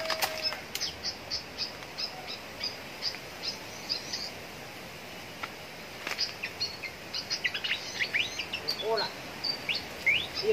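Wild birds in open country chirp and call in short repeated bursts, scattered near and far, with a busier cluster of calls toward the end, while fantail birds are being lured.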